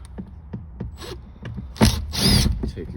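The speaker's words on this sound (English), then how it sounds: "Take your two screws out." Screws are backed out with a tool during paintless dent repair on a car, giving a few light ratcheting clicks followed by two short, louder whirring bursts close by.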